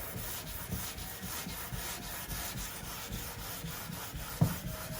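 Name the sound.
hand sanding block on body filler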